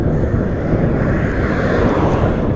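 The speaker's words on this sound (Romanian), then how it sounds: "Oh, dar bate serios vântul din față." Strong headwind blasting past a moving motorcycle, a loud, unbroken low roar of wind buffeting the microphone from start to finish, with no voices over it.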